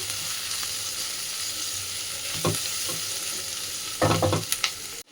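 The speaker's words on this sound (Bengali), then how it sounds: "ভালো করে পেঁয়াজটা প্রথমে একটু লাল লাল করে ভেজে নিচ্ছি" Onion frying in a pan for Maggi noodles cooked chowmein style, a steady close hiss of sizzling oil with a few sharp scraping stirs and clinks near the end, no voices.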